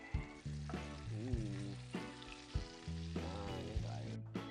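Bacon fries in a pan until golden brown, giving a close, continuous sizzle with irregular louder bursts and crackles over a few seconds.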